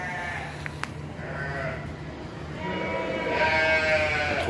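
Goats at a family goat farm bleat intermittently in a barn, several wavering calls rising and overlapping toward the end, moderately close over a low background hum.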